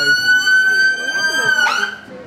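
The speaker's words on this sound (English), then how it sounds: "ambulance making a lot of noise next to us" An ambulance siren wails loud and close, its steady rising tone shifting as it passes by a train station in Nottingham, with voices and street noise beneath.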